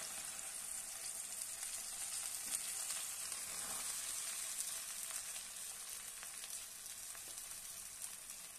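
Washed and dried gongura leaves frying in about three spoons of oil in a pan, a steady, moderately soft hiss and crackle that continues evenly throughout, with no talking.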